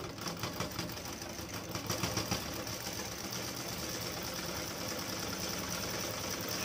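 A sewing machine hums continuously at a steady pace, double stitching a nighty, its motor drone filling the whole stretch without pause.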